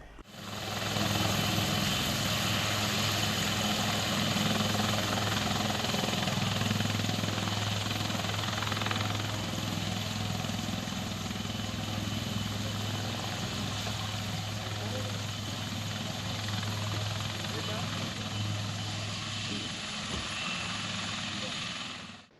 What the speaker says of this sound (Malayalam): കേന്ദ്രസേനയുടെ ഹെലികോപ്റ്റർ ഭക്ഷ്യസാധനങ്ങൾ ഉൾപ്പെടെയുള്ള കിറ്റുമായി പറന്നിറങ്ങിയത്